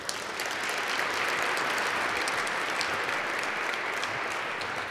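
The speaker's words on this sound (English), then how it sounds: "Please give them a round of applause." A symposium audience gives panel speakers a steady round of applause, an even wash of many hands clapping at moderate volume from start to finish.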